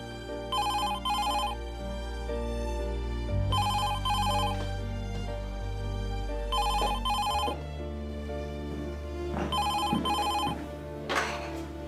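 Telephone ringing in a TV drama scene, four evenly spaced double-burst bell rings over a sustained low musical score.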